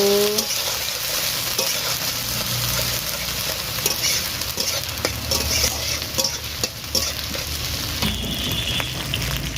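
Ginger and green chilli frying in hot oil while being stirred, a steady close sizzle with scraping stir strokes throughout, occasional faint background sounds.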